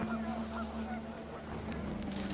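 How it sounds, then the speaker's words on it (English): Panicked geese honk in a game's outdoor scene, repeated calls running steadily over wind and water-like ambience, moderately loud throughout. "panicked geese appeared and quickly went"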